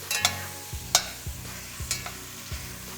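Vegetables and tomatoes are stirred in a pan over low heat, a spoon scraping in several distinct strokes over a soft sizzle.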